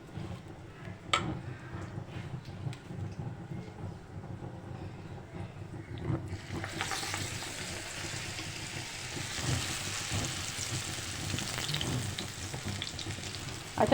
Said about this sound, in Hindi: अच्छे से इसको मिक्स करने के बाद अब हम इसे पकोड़े जो है फ्राई कर लेते हैं